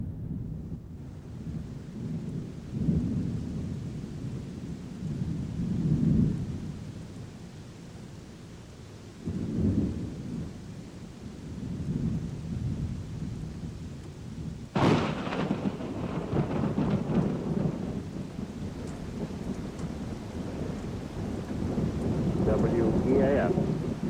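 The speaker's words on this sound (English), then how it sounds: "And then, it started to rain." Steady rain with rolling thunder rumbling through, swelling and fading in low bursts, then a harder downpour crackles in for the final stretch.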